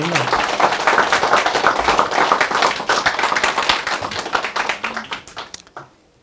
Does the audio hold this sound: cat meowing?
no